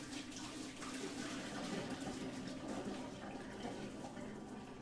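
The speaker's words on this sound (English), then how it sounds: "we are just going to add cold water over and over and over, just to stop the cooking process" Cold water pours steadily over boiled potatoes in a bowl, a continuous splashing rush of moderate loudness throughout, with no talk.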